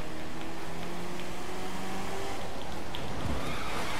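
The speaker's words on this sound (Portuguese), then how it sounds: "Eita chuva." Steady rain hiss in the racing video game The Crew 2, with a car engine droning underneath and faint water splashes, continuous and fairly quiet throughout.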